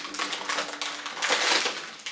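Plastic wrapping around German chocolate crinkles and crackles in quick irregular bursts close up, growing louder midway through.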